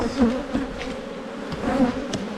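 Honey bees swarm around a hive during an Australian spring hive inspection, a dense continuous buzzing drone with individual bees swelling louder as they pass close.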